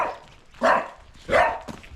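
A dog barks twice in a village along the Camino Inglés pilgrimage route, two sharp, fairly close barks about half a second apart over quiet background.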